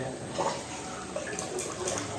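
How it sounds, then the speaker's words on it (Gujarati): Water pours steadily into a pot of toor dal cooking with spinach and tomatoes, a brief close gushing splash with no talking. "પાણી નાખશું"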